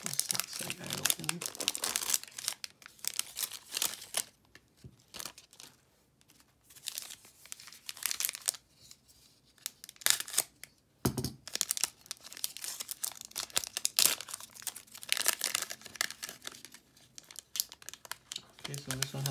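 Foil wrapper of a Donruss 2020 football trading card pack crinkling and tearing open up close, in irregular bursts of crackle with quieter pauses between handlings and some talking in the background.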